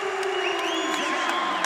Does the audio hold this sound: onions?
no